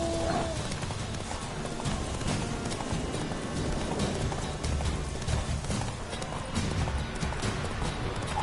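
The horse Roach trots in a video game, hooves clip-clopping in a quick steady rhythm over a broad ambient wash, close and moderately loud with no one talking.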